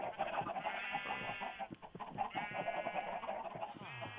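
Parrots in a Minecraft-style hardcore survival game, chattering and squawking in a steady stream of high, warbling bird calls close by, with some lower animal sounds mixed in.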